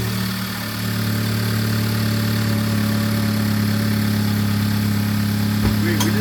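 A Boost Blue Type R car engine idles steadily up close while warming up, a constant low hum that settles after a brief dip at the start, with a faint click near the end.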